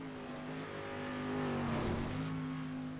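Race car engine screaming at high revs as it drives downhill toward a massive start-finish line jump, a sustained tone whose pitch dips and rises as it passes, heard from a distance.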